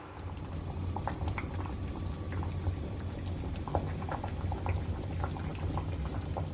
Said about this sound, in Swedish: nu har jag låtit grytan koka i cirka 20 minuter